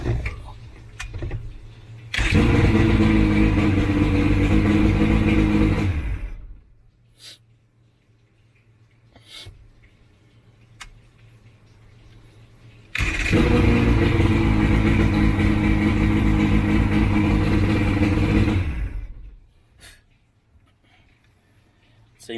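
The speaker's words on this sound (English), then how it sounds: "I just want to give it a few cold starts" An Evinrude Johnson outboard motor is cold-started twice. Each time it catches and runs loud and close for several seconds before cutting out, with quieter pauses and small clicks between the starts.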